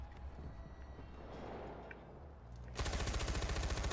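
Machine gun fire in Far Cry 4 bursts in for the last second as a rapid, loud, evenly spaced rattle of shots, following a quieter stretch of game ambience.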